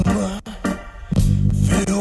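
Dark, carnival-flavored rock song, with a steady low bass pulse and layered organ and vocal tones, loud and continuous apart from a brief drop near the middle.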